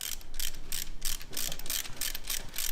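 Ratchet tightening bolts during a K-series engine swap on a Honda CRX drag car: a steady run of quick, repeated metallic clicking bursts close up, with no talking.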